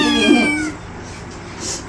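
A cat gives one short, close meow at the start, then only faint background noise follows.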